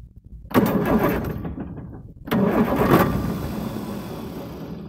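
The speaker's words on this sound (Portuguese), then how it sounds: "Tô só testando aqui o arranque" A truck's starter motor cranks the diesel engine in two loud, close bursts, the first about a second and a half long, then a brief pause before a second, longer grinding crank that fades at the end.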